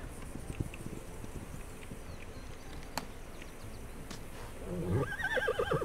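Horse neighs in a video game over a steady outdoor ambience with insect-like buzzing; a whinny rises clearly near the end, louder and close.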